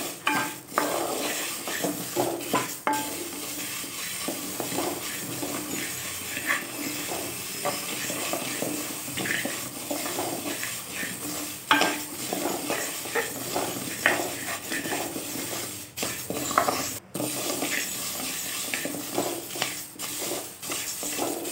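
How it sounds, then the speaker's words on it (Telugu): Toor dal and curry leaves frying over a medium flame in a pan, a steady close sizzle and hiss with scattered scraping stir strokes and occasional clinks of the utensil against the pan, no voices. "ఇలా మీడియం ఫ్లేమ్లో వేయించుకోవడం వల్ల కందిపప్పు అనేది నిదానంగా వేగుతూ మంచి ఫ్లేవర్ వస్తుందండి మనకి"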